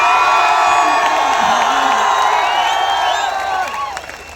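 A large outdoor crowd at a political rally in Haryana cheers, whoops and claps loudly, with shrill shouts and whistles rising over a dense roar that slowly fades toward the end.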